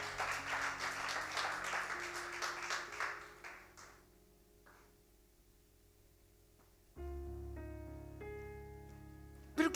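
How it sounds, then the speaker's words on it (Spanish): A church congregation applauds together for about four seconds, then the clapping fades away, and soft sustained keyboard or organ chords follow. "Yo le daría un aplauso al Señor"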